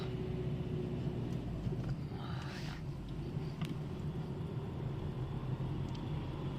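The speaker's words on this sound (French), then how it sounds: "écoute peut-être le bruit du moteur" A car engine hums low and steady from inside the vehicle during a driving lesson, a constant muffled rumble with faint road noise and no talking.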